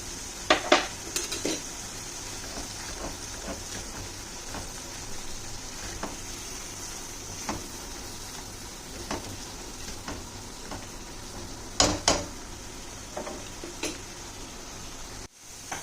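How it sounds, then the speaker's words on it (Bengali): Spice paste fries in a pan with a soft continuous sizzle, punctuated by sharp metal spoon scrapes and clinks against the pan at irregular intervals, nearby and with no speech. "এবার দেখুন আমার মশলাটা খুব সুন্দর করে ভাজা হয়েছে।"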